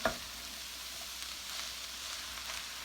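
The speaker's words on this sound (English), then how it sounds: "stir them and try to mix the vegetables with the noodles" Egg noodles and vegetables sizzle steadily in a frying pan as they are stirred, a close, even hiss with a single clink at the start.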